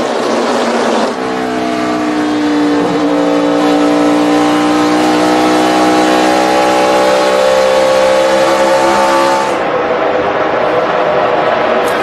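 NASCAR race cars roar past on track at the 2011 Hollywood Casino 400, a loud sustained engine drone with rising and falling pitch as the pack passes.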